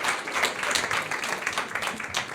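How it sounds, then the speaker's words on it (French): Audience applause at a French pain-care conference, a moderate, fairly distant patter of clapping that runs evenly throughout. "On peut l'applaudir."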